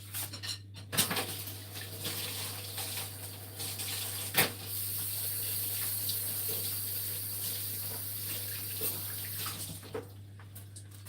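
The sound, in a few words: washing a whisk under a running tap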